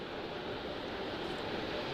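Steady broadband rushing roar of sound suppression water flowing under the mobile launcher on the pad before the Artemis 1 rocket launch, continuous and unchanging with no voices.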